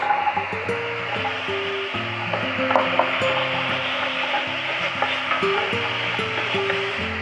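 Carrots hit a hot pan of coq au vin base, giving a steady, close sizzle and frying hiss with some stirring, over low background music.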